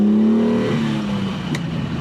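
A 1970 Ferrari Dino 246 L Series engine revs steadily from inside the moving car, a loud, close, continuous tone that eases slightly in pitch, with no voices over it.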